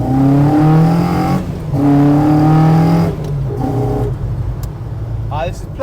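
A Ford Escort Mk1 fitted with a Zetec engine revs hard while driving, a loud, steady, near engine drone rising and falling in pitch, with someone talking over it throughout.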